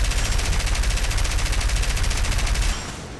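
Rapid, continuous machine-gun fire from an I-15WR biplane in War Thunder roars loud and dense for nearly three seconds, then cuts off, leaving engine drone.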